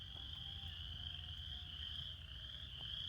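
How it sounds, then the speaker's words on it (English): A steady chorus of frogs croaking beside a walking trail, a continuous trilling drone carried under a constant low outdoor rumble. "I was listening to the frogs"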